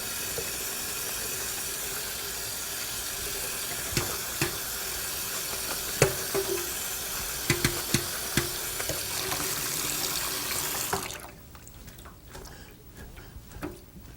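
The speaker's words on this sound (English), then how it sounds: "You have to rinse off all the salt" Salted bitter melons are rinsed in a colander under a running kitchen tap, giving a steady close hiss of water with scattered clicks and knocks. The flow cuts off near the end, leaving quiet.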